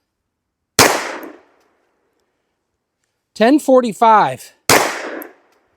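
Two sharp, loud gunshots from an FN 510 Tactical pistol firing Federal ammunition outdoors, spaced several seconds apart with a brief spoken number between them.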